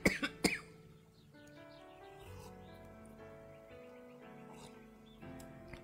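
A few sharp coughs close up at the start, followed by quieter sustained tonal background sound.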